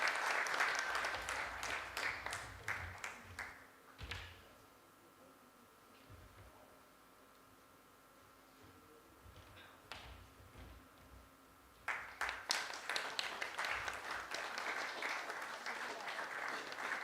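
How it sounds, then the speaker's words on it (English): Loud applause from a management convention audience fills the opening seconds, fades to a quiet room for several seconds, then a fresh burst of clapping returns and continues to the end. "Give a huge round of applause."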